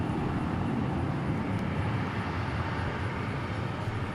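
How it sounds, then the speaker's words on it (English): Regional CRJ jet departing DFW International Airport, a steady broadband engine roar holding loud and even throughout with no voices. "Some regional CRJ action. They just keep coming."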